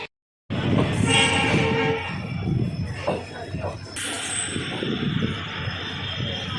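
An intercity express train from Ramnagar to Chandigarh pulls out of Roorkee railway station, a loud steady rumble of wheels and carriages with a brief horn-like tone, filling the platform close by.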